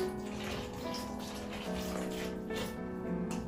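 Water pours steadily into a bowl of instant dosa batter flour, one cup's worth, a continuous soft splashing stream heard close and fairly quiet with no talking.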